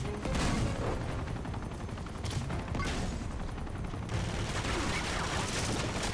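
Dense, continuous gunshots and automatic fire from the video game Uncharted, loud and close, barely letting up across the whole stretch.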